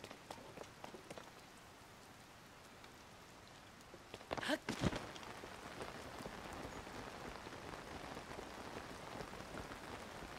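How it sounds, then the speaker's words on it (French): Rain drumming on a paraglider canopy in the video game Zelda: Tears of the Kingdom, a steady soft patter with a brief louder gust of drops partway through. "quand il sort son paravoile, on entend littéralement la pluie tomber sur son paravoile"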